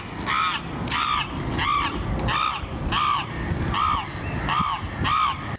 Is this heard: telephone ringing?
no